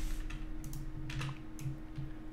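Typing on a computer keyboard during a website wireframe design session, a quick run of light, close key taps in small bursts over a faint steady hum.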